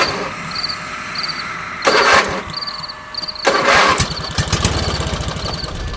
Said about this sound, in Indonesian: Aku pun mencoba starter motor saya berkali-kali, tetapi tidak bisa sama sekali.